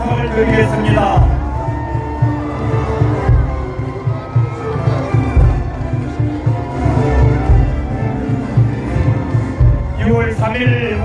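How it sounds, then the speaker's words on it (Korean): Large outdoor rally crowd at a Seoul City Hall presidential campaign finale, clapping and cheering steadily alongside rhythmic thumping music and an amplified voice. "다시 한번 큰 박수 부탁을 드리겠습니다"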